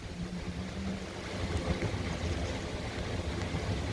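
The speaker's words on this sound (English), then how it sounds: "These are winds from old Hurricane or Tropical Depression Fred." Strong, gusty wind from the remnants of Hurricane or Tropical Depression Fred roars steadily and loudly, swelling slightly as the gusts build, with no talking.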